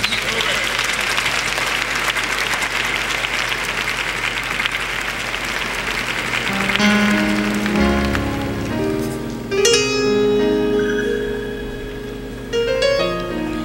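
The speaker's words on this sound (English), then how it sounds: "clap your hands and give the Lord some praise" A church congregation claps hands in praise, a loud, steady wash of applause that continues for several seconds before an organ and singing voices rise over it and carry on together.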